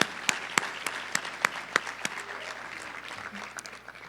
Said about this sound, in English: please give yourselves another round of applause